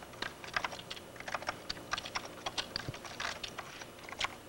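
Typing on a computer keyboard: a rapid, irregular stream of crisp keystroke clicks, close and fairly quiet, continuing steadily for several seconds with no voices over it.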